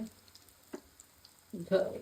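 Frying carrot chomchom sizzle softly in hot oil, with a brief stir around the middle and a louder crackling burst near the end.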